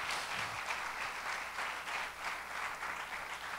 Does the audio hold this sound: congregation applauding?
yes